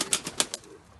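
Wings of a tumbler pigeon flapping in a few quick, close claps that fade out within about a second, with no voices.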